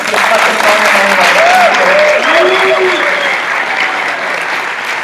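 Loud, continuous audience applause fills a church celebration service, a dense wash of clapping with some voices and cheering calls rising over it near the middle.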